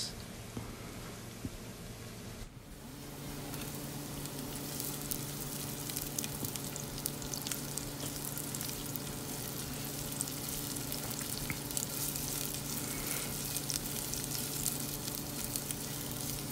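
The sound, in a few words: sautéing garlic and onion in a pan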